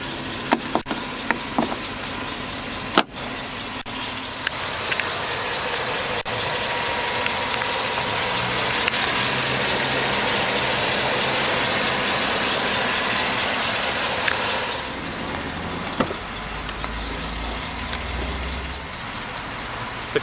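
A 2009 Hummer H2 Sedona Metallic Black Chrome Edition with a V8 idles steadily, its exhaust a low, even rumble held for about twenty seconds, with a few faint clicks near the start and no voices.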